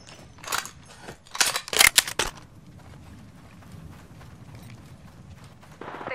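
Gunfire from the battle royale game Apex Legends comes as a quick burst of sharp, crackling shots lasting about two seconds, followed by quiet ambient game noise and one more faint shot near the end.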